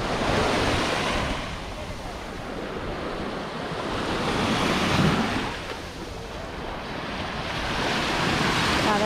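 Calm ocean waves wash onto a beach in a steady, rolling surf with wind buffeting the microphone, swelling and easing in slow cycles.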